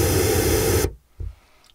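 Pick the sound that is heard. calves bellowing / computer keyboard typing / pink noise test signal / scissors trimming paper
pink noise test signal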